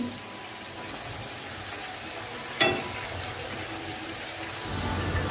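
Rohu fish heads fry with salt and turmeric in a pan, giving a soft, steady sizzle with one sharp clink partway through and no talking.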